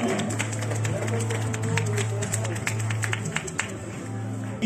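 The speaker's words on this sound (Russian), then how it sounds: "Дамы и господа, давайте аплодисментами поддержим бойца!" An audience applauds a fighter at a mixed martial arts weigh-in, a dense, sustained patter of clapping throughout over a steady droning tone in the hall.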